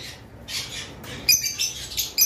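Pet lovebirds chirp and squawk in short, bright bursts that repeat irregularly and sound fairly close.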